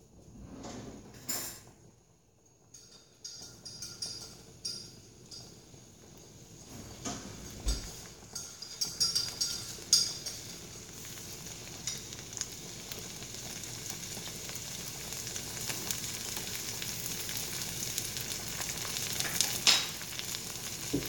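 Soup cooks on a fire while it is stirred, with a few knocks and scrapes early on giving way to a steady sizzling hiss that builds and holds with no talking.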